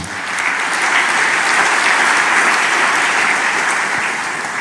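A church congregation applauds continuously, a dense, loud wash of clapping from many hands that swells and then eases slightly over several seconds, with no speech above it.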